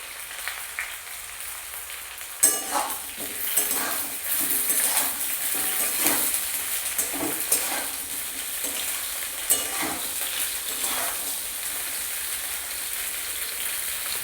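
Eggplant pieces for shukto fry lightly in a pan, giving a steady sizzling hiss punctuated by repeated scraping stirs and spatula knocks close by.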